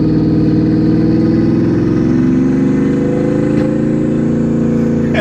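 Porsche Panamera Turbo with side exhaust revving loudly and steadily at close range, a deep rumbling engine note with a rough, burbling texture that swells slightly as revs rise, alone without voices.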